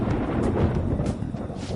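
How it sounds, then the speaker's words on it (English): Low, continuous rumble of thunder ahead of rain, a dull rolling roar steady at moderate loudness for a short stretch with no voices. "It sounds like it's going to rain."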